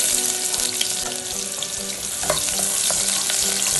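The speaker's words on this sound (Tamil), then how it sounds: "ஆயில் நல்லா ஹீட் ஆனதுக்கப்புறம் நம்ம வெங்காயத்தை சேர்த்து வதக்க ஆரம்பிச்சிடலாம்." Onions frying in hot oil in a kadai for Marina Beach style chicken noodles: loud, close, continuous sizzling and crackling with occasional stirring scrapes and no talk.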